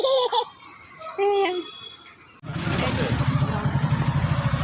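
Motorcycle carrying riders rolls along with a steady engine drone in the second half, preceded by nearby laughter and chatter.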